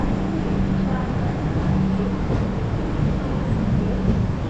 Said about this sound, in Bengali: মালদা থেকে ছেড়ে দিল ট্রেন